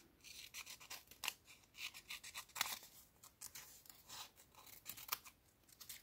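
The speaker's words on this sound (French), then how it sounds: "On va prendre, j'avais des ciseaux" Scissors snip through gold paper in a craft session, giving a quiet, close series of rapid crisp cuts and rustles with an uneven rhythm and no voice over them.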